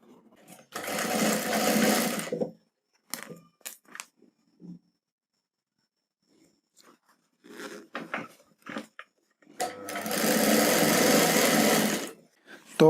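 Sewing machine stitching along the waistband of a ready-made petticoat with a hidden zip, in two long steady bursts with short clicks and handling sounds between them.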